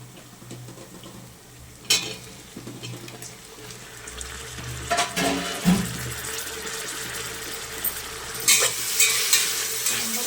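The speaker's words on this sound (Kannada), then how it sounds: "ಇವಾಗ ಟೊಮೊಟೊ ಹಾಕ್ತಾಯಿದ್ದೀನಿ ನೋಡಿ." Onions and tomatoes frying in oil for egg biryani, a steady close sizzle with a few sharp scrapes and clanks of stirring throughout, no voices.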